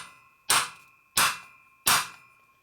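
Hammer blows on a 1955-65 Linkert air cleaner cover being straightened: three sharp metallic strikes with a ringing tone, evenly spaced about two-thirds of a second apart, close and loud with no talking.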